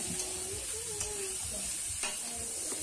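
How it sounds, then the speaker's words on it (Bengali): Potatoes frying in oil with salt and turmeric give off a steady close sizzle and hiss, broken by the scrape and clatter of stirring at regular intervals, with no voices. "নুন হলুদ দিয়ে আমি আলুটাকে ভালো করে ভেজে নেব।"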